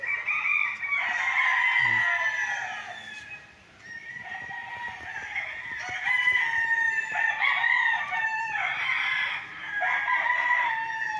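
Several roosters at a small cockfighting pit used for conditioning gamecocks in Pagsanjan, Laguna crow in overlapping waves, loud and close, dipping briefly between bursts of calls.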